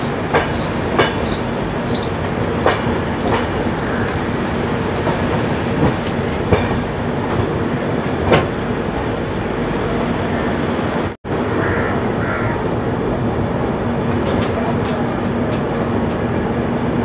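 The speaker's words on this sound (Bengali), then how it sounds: "'রাজচন্দ্রপুর' রেল স্টেশনের সামনে দিয়ে আমাদের ট্রেন যাচ্ছে" A Puri–Sealdah Duronto express train runs past Rajchandrapur station after Dankuni, heard as steady wheel rumble and rhythmic clickety-clack from the track, with brief squeals and one sharp dropout partway through.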